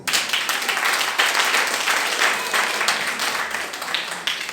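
A church congregation claps together in loud, sustained applause filling the room for several seconds, dense and continuous without pauses.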